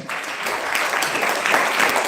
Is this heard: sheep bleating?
no